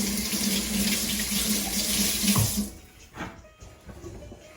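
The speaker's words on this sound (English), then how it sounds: "I have to wash my hands quickly." Hands washed under a running kitchen tap, a loud steady gush of water for a couple of seconds that cuts off sharply, followed by a few faint drips and handling sounds.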